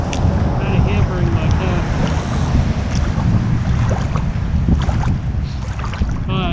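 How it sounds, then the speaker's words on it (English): Strong wind buffets the microphone during early spring fishing on a wide lake shore, a steady low roar that runs loud and continuous through the whole stretch, with faint water sounds underneath. "we got a strong wind right now that's kind of hampering"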